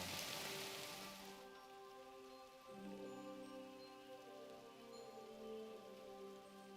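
Rain in the video game Kingdom Come Deliverance 2, with a soft hiss of falling rain at first, followed by quiet, sustained tones that carry on faintly.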